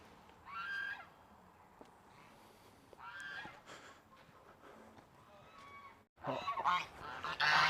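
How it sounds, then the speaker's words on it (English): Geese on a farm honk in several separate loud bursts, close and harsh, with quieter gaps between calls and a louder cluster near the end. "There's our pet, the geese."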